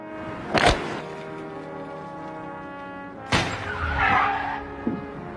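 Car skidding to a sudden stop in a film scene, with its window glass breaking: a sharp burst of noise, a sustained tonal drone, then a second loud crash swelling into a screech and a brief final knock.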